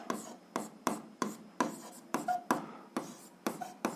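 Pen writing out an algebra system-of-equations solution by hand, heard as a steady series of short scratchy strokes, about two per second, close and clear with no talking.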